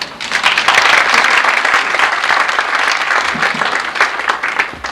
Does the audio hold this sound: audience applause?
yes